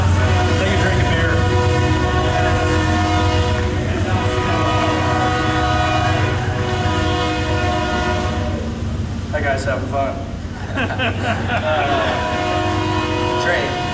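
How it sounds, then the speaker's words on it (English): A train rolls past outdoors near a sprint car racetrack, its loud horn blaring in long sustained blasts over the steady rumble of railcars, with someone speaking briefly over the noise. "Train going by here."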